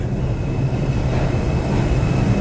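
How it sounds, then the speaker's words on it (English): A New York subway number two train arriving, its loud, steady rumble of wheels and cars filling the station with a continuous roar and no talk over it. "Oh, there you go, that's the train."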